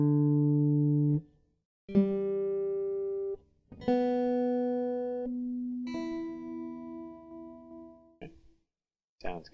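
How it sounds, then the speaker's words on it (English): Electric guitar plucked string by string while being tuned with an electric tuner, a few sustained single notes ringing out one after another with short silent gaps, close and clear. "First thing we do is tune it up. I use an electric tuner."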